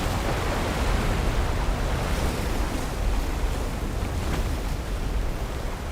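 Water gushing under intense pressure from an opened old pit in an action movie scene, a loud, steady, broadband roar that rushes on without a break for six seconds, with no talk.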